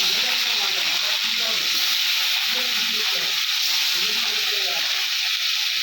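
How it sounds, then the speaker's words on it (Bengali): Rohu fish pieces fry in hot oil in a wok, giving a loud, continuous sizzle and hiss close up with no pause. "মাছগুলো দিয়ে দিলাম, মাছগুলো ভাজা হবে"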